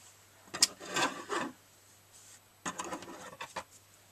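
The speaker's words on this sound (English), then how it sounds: "I'm going to trim down one side of this because the other one is going to fold over it." Scissors trim one side of a sewn fell-seam allowance on denim from old jeans being made into a tote bag: two quiet, close bursts of crisp rasping cuts with a pause between them.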